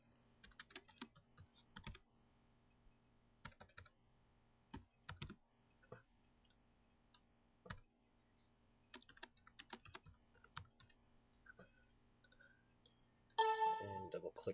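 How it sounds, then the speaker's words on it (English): Quiet computer mouse and keyboard clicks on a desktop, scattered single and paired taps spread irregularly with pauses between, ending in a louder burst of a brief sound at the close. "Go ahead and double click"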